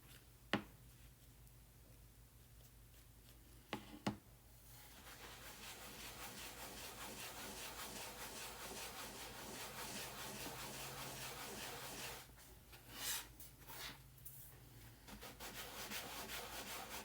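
Soft rubbing of wax onto raw wood with a cloth or brush, low scuffing strokes that start quiet and swell into steady friction, with a few faint clicks early on and louder brushing bursts near the end.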